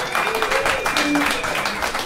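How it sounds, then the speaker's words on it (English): Audience at a talk on brewing with hops gives a round of applause, a dense steady patter of clapping lasting a couple of seconds with voices mixed in. "give yourselves a round of applause"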